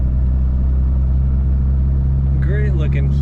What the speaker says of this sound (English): Such a quiet running car. I imagine this is the stock sound.